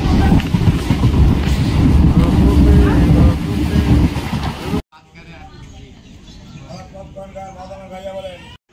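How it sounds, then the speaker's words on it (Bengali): A train standing at Majhigram station on the single-track Bangaon–Ranaghat line gives a heavy broadband rumble for about five seconds, then falls to a quieter hum, with people talking throughout. "আমরা এখন মাঝিগ্রাম স্টেশনে নেমে বসে আছি, আর এই যে আমাদের ট্রেনটা দাঁড়ানো"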